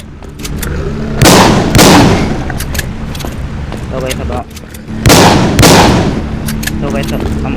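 Shotgun blasts in The Walking Zombie video game, two pairs of loud broadband bursts a few seconds apart over a continuous game background, without clear speech.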